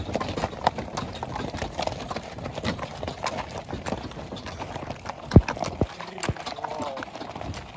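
A mare's hooves clip-clop in a steady, rhythmic series of close hoofbeats, with one sharper knock partway through. Low background sounds run beneath the hoofbeats.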